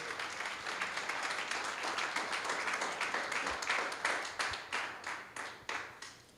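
Church congregation clapping loudly in praise, a full burst of applause that thins toward the end into scattered individual claps with distinct rhythmic strikes.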